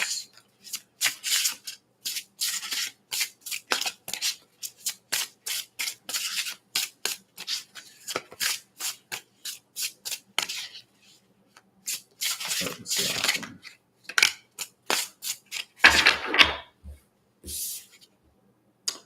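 Tarot cards shuffled by hand, a series of quick riffling, rubbing bursts in uneven clusters with short pauses, close and fairly soft, no talking.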